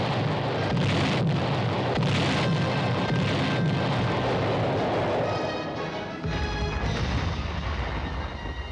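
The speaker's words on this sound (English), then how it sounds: "Having called for artillery fire, the observers stand by." Artillery batteries firing during military field training, heard as heavy, rumbling booms rolling in from a distance, dense and continuous, with no voices.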